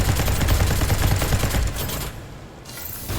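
Rapid gunfire from a firefight in the video game Dolls Nest, with loud repeated shots packed into a dense burst that fades out near the end.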